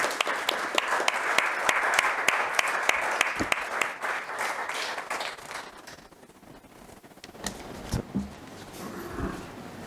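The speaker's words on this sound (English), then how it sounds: "Can we please have a huge round of applause for sir?" An audience at a yoga institute's foundation day program applauds the keynote speaker. A few crisp, close claps ride over dense clapping that tapers off after about six seconds, leaving scattered small sounds and faint voices.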